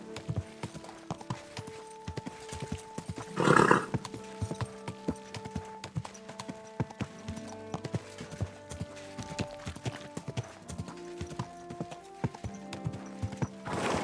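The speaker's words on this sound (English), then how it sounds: "Easy, good horse." Hoofbeats from a trotting horse in Kingdom Come: Deliverance II patter steadily and close, with a brief louder swell early on and game music running beneath.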